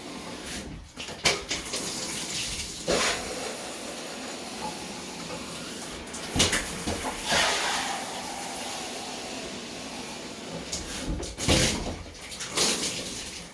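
Steady hissing spray of water from a shower runs throughout, close and fairly loud, with occasional splashes and shifts as the stream moves while washing down a shower.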